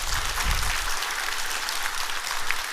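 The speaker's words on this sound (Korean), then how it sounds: "격려 박수 부탁드립니다." Audience applause at a Korean museum preview screening on the Gyeongju Jjoksaem Tomb 44 excavation, dense steady clapping filling the room for a few seconds with no voices over it.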